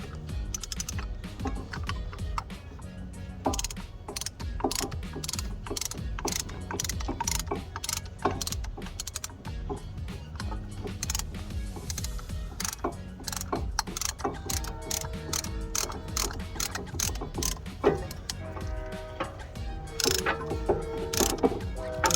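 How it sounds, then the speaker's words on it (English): A ratchet wrench clicking in steady rapid bursts as a brake caliper piston compressor tool threads its bolt during a front brake job on a 2019 Kia Sedona, close and crisp, with a faint voice in the background. "when you ratchet it, it's just threading that bolt and pushing it in"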